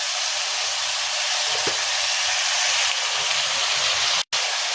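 Chickpeas fry in a pan, giving off a steady, broad sizzling hiss that stays even and close for the whole stretch, broken only by a very brief dropout near the end.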